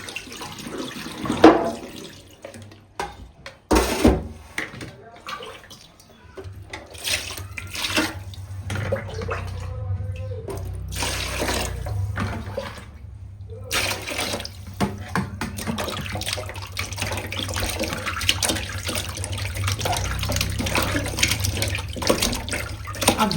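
Goat meat being washed under a running tap, with steady water streaming and splashing into a basin for most of the stretch, broken by a few short pauses and clattering handling sounds early on.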